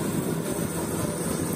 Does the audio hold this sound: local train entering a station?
yes